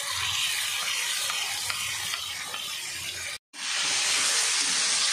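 Potatoes frying in a pan hiss and sizzle steadily as spices go in, a loud, dense broadband crackle that cuts out briefly and returns even stronger.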